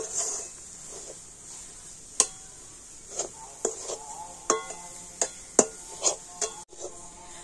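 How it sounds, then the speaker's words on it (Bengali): Jaggery and rice flour being stirred together in a pan for a crisp pitha, giving soft scraping with scattered sharp clinks of a utensil against the pan, moderately close and alone. "দেখুন গুড়ের সাথে চালের গুঁড়িটা কিন্তু ঠিক এইভাবে করে মিশিয়ে নিতে হবে"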